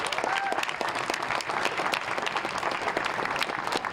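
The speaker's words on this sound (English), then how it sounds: "I think they deserve a big round of applause." A sustained round of applause for girls' under-11 soccer teams after a state cup final, many hands clapping steadily outdoors with light crowd noise.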